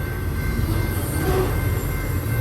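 A train rolls past steadily on the middle of three tracks in Lower Sworthout Canyon, a continuous rumble with faint metallic squeal and rhythmic wheel clatter, no talking.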